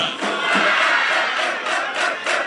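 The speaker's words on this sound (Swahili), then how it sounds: "Mpigeni makofi mengi kabisa." A large crowd cheers and roars loudly, a dense wash of shouting voices swelling in waves throughout.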